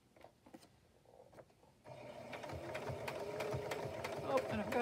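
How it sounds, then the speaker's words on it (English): After brief quiet handling noises, a sewing machine starts and runs steadily, a fast, close whirring stitch rhythm with a light mechanical clatter. "sewing machine's going on real quick"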